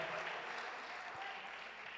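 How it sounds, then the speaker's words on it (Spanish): Church congregation applauding during a service, a quiet, even patter of many hands clapping at a distance. "Dele un aplauso fuerte al Señor."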